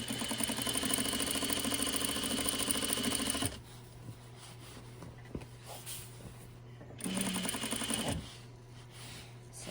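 A sewing machine stitches a T-shirt hem in two steady, loud, close whirring runs, separated by a quieter pause with light handling noises.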